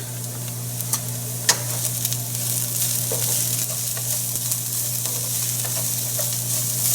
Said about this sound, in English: The vegetables are softened now, so we'll add the garlic.